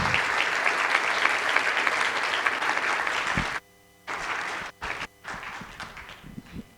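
Audience applause at a food security symposium, steady and full for about three and a half seconds, then breaking off abruptly into short bursts separated by near-silent gaps.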